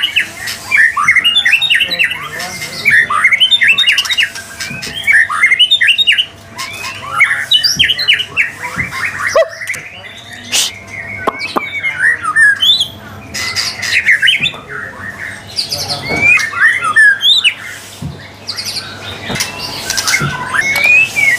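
Dense, busy birdsong from a white-rumped shama (murai batu) kept for song competitions, with loud squawks, whistles and chattering phrases running almost continuously and close by, no talk.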